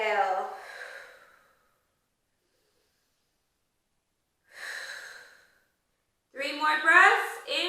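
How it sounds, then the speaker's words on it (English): Slow, audible breaths during gas-relieving stretches: a long exhale, then after a silent pause another breath, followed by a sharper, louder breath, each isolated against quiet. "Three more breaths. Inhale, exhale."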